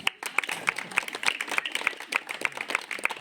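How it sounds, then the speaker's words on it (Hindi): Audience clapping at a devotional gathering at a cow shelter temple, a steady patter of many hands with irregular louder claps, moderately near, lasting the whole stretch without voices on top. "बजाइए ताली"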